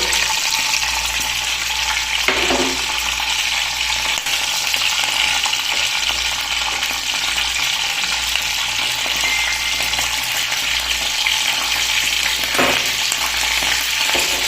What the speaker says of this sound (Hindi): अब ये सब चीज़ें तेल गर्म हो गया तो इसमें डालेंगे।